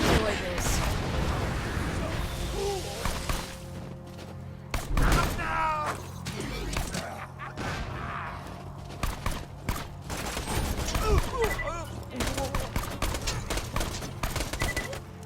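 Gunfire in the Borderlands shooter game, rapid bursts and scattered shots with thuds and impacts, loud and busy, with voices talking over the action.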